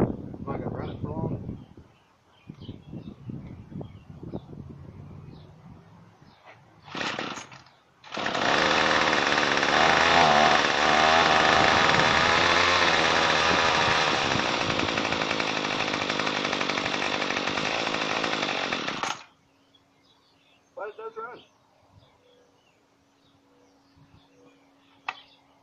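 A free riding mower's gas engine, fuelled with gas and no oil, sputters on a first brief attempt, then roars to life and runs loud and steady for about eleven seconds before cutting off abruptly; talk is heard before and after.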